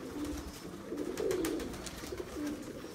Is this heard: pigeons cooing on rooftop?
yes